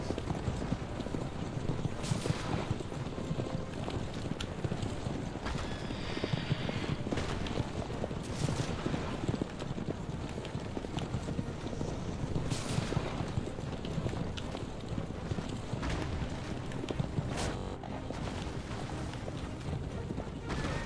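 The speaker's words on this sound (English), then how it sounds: "High-speed chase of 2 horse carriages!" Galloping hooves of two horse-drawn carriages in a high-speed chase in the video game Assassin's Creed Revelations, a continuous rapid clatter with periodic sharp bursts over a rumbling game soundscape.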